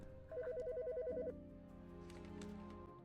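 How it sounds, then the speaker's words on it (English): A phone ringtone in the video game Autopsy Simulator, a rapid warbling electronic trill repeating for about a second, followed by quieter tonal game music. "The fucking phone."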